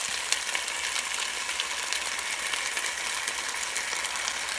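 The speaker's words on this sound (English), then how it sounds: "I've added some oyster sauce and just stir that in." Beef stir fry with oyster sauce being stirred in a hot pan, a steady close sizzle with crackling spits and faint scraping of the spatula throughout, no talking.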